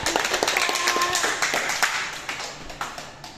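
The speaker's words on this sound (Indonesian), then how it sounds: "Oke, tepuk tangan" A small group claps hands together in a short burst of rapid, uneven claps that quickly thins to a few scattered taps, while people speak over and around it.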